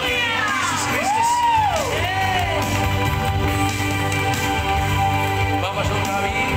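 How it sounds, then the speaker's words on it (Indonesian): A church congregation breaks into loud applause and cheering, with shouts and whoops rising over dense clapping, while music with sliding tones carries through the crowd noise at close, strong level. "Mari kasih tepuk tangan yang paling meriah bagi Yesus Kristus"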